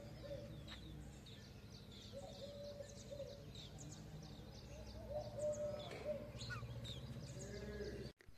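Birds pecking grain chirp and call faintly in the open air of a Gujarat village, scattered short notes over a low rural background, with occasional animal bleats nearby.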